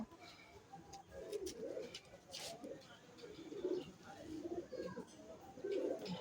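Pigeons coo in soft repeated low phrases near at hand, with a brief chirp and people talking over them.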